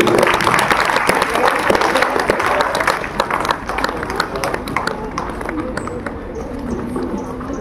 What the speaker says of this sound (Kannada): ಜೋರಾಗಿ ಚಪ್ಪಾಳೆ ನೋಡಿ